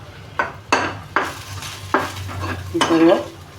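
Cut chillies dropped into a hot pan with garlic and stirred, giving sharp close scraping strokes over a soft, steady sizzle.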